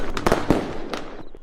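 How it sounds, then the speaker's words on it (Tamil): A rapid string of sharp firecracker bangs crackles close by, several loud pops spaced unevenly in quick succession. "பட்டாசு நல்ல சகுனம்."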